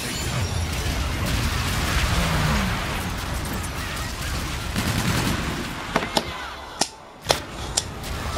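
Explosions and gunfire from a bombardment in Call of Duty: Infinite Warfare: a dense, continuous roar of blasts that gives way to several sharp, loud cracking bursts near the end.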